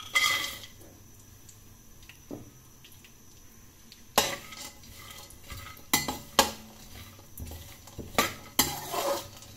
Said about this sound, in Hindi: अब मैं शामिल करूंगी इसमें फ्राई करने के लिए नट्स।